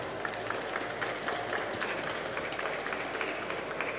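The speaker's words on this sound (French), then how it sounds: "On va commencer par vous applaudir déjà" An audience claps after a technical presentation at a cybersecurity conference, a faint, steady patter of many hands heard from a distance.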